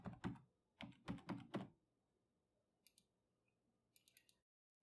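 A few soft, thumpy keystrokes on a computer keyboard, then a short pause and two quick clusters of lighter clicks, close and quiet.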